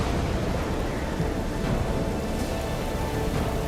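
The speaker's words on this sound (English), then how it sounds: "An unprecedented Category 5 typhoon strikes, unleashing 80 inches of rain in just 24 hours." Heavy typhoon downpour, a Category 5 storm dumping torrential rain, roars as a steady dense wash of rainfall with low rumbling thunder underneath, loud and continuous throughout.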